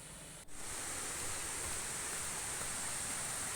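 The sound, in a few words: waterfall water falling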